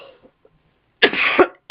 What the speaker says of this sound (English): sorry about all the coughing in the video